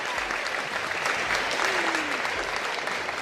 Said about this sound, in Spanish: lo recibimos con este fuerte aplauso de esta multitud que está aquí en la cabina